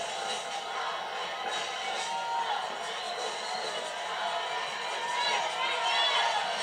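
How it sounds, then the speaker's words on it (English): Crowd at a Foley vs McGill high school football game in 2008, a steady distant roar of cheering and chatter that swells slightly toward the end, with commentators talking over it. "you hear cheering"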